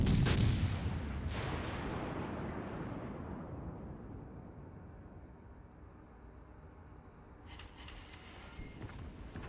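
Warship guns fire in the naval game World of Warships Legends. A heavy booming salvo opens, a second blast follows, and then a long rumbling decay runs out to a later crackle of distant shots.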